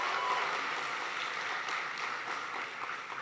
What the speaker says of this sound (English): You can cheer about that.